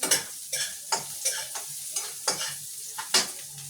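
Garlic frying in a pan, stirred with a spatula in a steady rhythm of close scraping strokes, roughly two per second, over a light sizzle.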